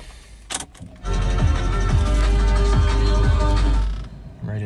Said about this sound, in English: we'll go ahead and start the car up.